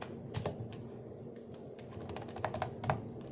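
Computer keyboard typing as a QBasic program is entered in QB64: a quiet, steady run of irregular keystrokes with small clusters of faster taps, close and alone with no voices.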